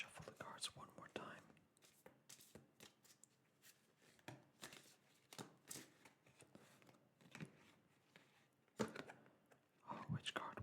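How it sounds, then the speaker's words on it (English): Tarot cards being shuffled up close, a string of crisp riffling flicks and soft taps in uneven bursts, with faint whispering now and then. "Let's just shuffle the cards one more time."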